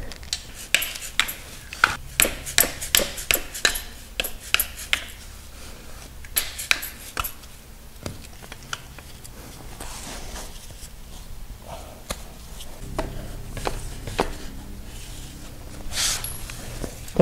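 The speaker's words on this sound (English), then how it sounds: "So we're just going to use socket and a mallet. Make our own impact." Mallet hammering a socket to loosen bolts on a BMW E46 M3 transmission, a series of sharp metallic knocks in quick uneven bursts, then quieter shuffling and handling sounds, fairly close and with no talking.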